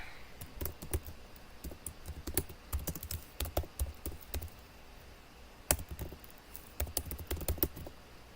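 Close computer keyboard typing while naming folders during digital art work, with bursts of quick key clicks and short pauses between runs, the pace picking up toward the end, no talking.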